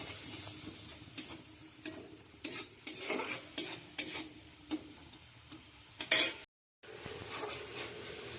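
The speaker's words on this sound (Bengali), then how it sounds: "হাফ চামচ লঙ্কা গুঁড়ো, হাফ চামচ জিরে গুঁড়ো, হাফ চামচ হলুদ গুঁড়ো, কিছুটা পরিমাণে দিয়ে এটাকে একটু ভালো করে নেড়ে নিচ্ছি।" Mutton curry with chili, cumin and turmeric powder stirred in a pan: repeated scraping strokes over a steady sizzle, close and moderately loud, with a brief dropout near the end.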